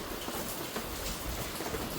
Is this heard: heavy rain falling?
yes